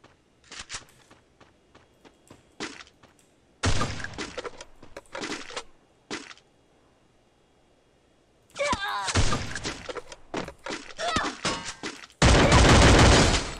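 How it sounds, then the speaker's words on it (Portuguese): Sniper shots and other gunfire in the battle-royale game Free Fire, loud sharp bursts in several clusters separated by quieter gaps, with a dense rapid volley at the end. "É uma de sniper e outros tirinho."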